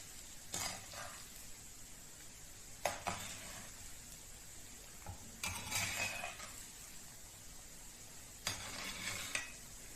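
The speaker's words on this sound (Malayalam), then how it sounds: "അപ്പം ഗ്യാസ് എണ്ണ ചൂടായിട്ടുണ്ട് നമുക്കിത് ഇട്ട് കൊടുക്കാം ഓരോന്നോരോന്നായിട്ട് ഇളക്കിയിട്ട് കൊടുക്കാം" Cauliflower pieces for gobi manchurian frying in hot oil, a soft steady sizzle broken by several bursts of stirring and scraping in the pan, fairly quiet and close.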